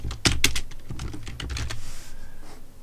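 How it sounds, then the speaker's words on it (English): A quick, close burst of computer keyboard keystrokes as a name is typed, lasting about two seconds and then tapering into quiet. "And type a name."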